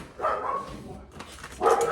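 A dog barks a couple of times nearby, short sharp yaps separated by a brief pause, with no talking.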